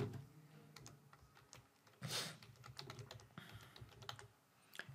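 Fingers type on a computer keyboard, entering an email address into a form, a quiet, close run of irregular key clicks with one brief louder burst in the middle.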